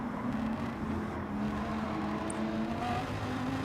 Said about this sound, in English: As we lose the car trying to brake here.